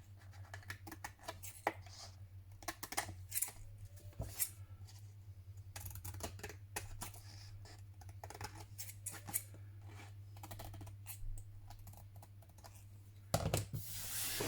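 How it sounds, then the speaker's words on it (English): Scissors trim pieces off a paper card in a quiet craft setting, a run of close, crisp snips and clicks with a louder rustle near the end. "find our scissors, turn it over, just trim these pieces off"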